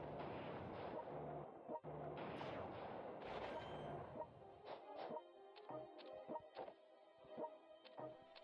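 Massed artillery firing in the strategy war game World Conqueror 3, a dense rumbling barrage at first that breaks into sharp, separate booming shots repeating at an irregular rhythm, loud and close.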